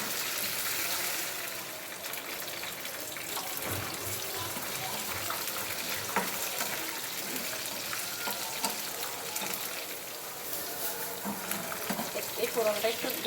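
Spices for a village-style potato sour curry are tempered in hot oil, giving a steady, loud sizzle and crackle with occasional stirring. A voice talks over it.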